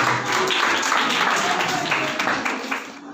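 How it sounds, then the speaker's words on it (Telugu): A church audience at a Christmas celebration in Hyderabad claps for a choreographed performance: dense, fairly loud applause that fades near the end. "మరొకసారి వాళ్ళకి చప్పట్లు కొట్టి అభినందిద్దాం."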